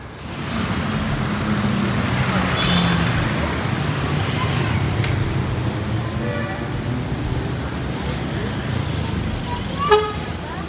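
A Primajaya intercity bus on the Bima–Jakarta route pulls out of its Mataram depot, with a steady low engine rumble amid surrounding traffic and a brief horn toot near the end.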